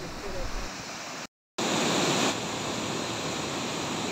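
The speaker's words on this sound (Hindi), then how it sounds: "ये रास्ते में इस तरह के सुंदर वाटरफॉल तो यहाँ पे जगह जगह मिलते हैं।" A roadside waterfall near Tawang in Arunachal roars as a steady, broad wash of rushing water, fairly faint and continuous with a brief cut in the middle.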